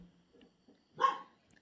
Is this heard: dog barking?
yes